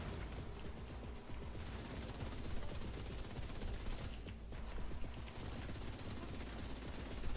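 Turret gunfire in The Division 2 rattles in sustained automatic bursts through a dense game mix, fairly faint and continuous with a short lull midway.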